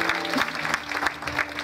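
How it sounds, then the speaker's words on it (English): A church congregation applauding during a dedication celebration, a short burst of dense clapping from many hands, fairly close, with faint voices underneath. "Give him a round of applause, everybody."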